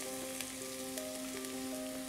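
Carrot, capsicum and onion fry in a little hot oil with a continuous, even sizzle. Steady background music plays beneath it and there is no talk.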